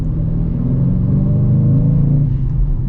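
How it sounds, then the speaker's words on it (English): A 2023 Dodge Challenger R/T with a manual gearbox pulls away in first gear, its V8 giving a loud, close, steady low rumble that swells slightly as it accelerates. "Oh, setting off here in this Challenger RT."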